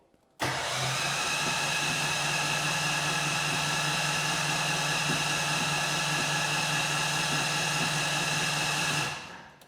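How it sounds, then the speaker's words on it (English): A FunBikes GT80 Trail Blazer off-road buggy being cranked but failing to start, a steady, close whirring drone from the starter that runs unbroken for about nine seconds and then stops, never catching. "As you can hear, the vehicle is not starting."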